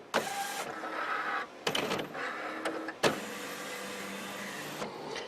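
An Epson WorkForce wide-format printer's cartridge carriage shuttling across, a series of whirring motor runs separated by clicks and short pauses, close and clear.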